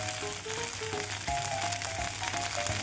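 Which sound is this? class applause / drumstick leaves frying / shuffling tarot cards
drumstick leaves frying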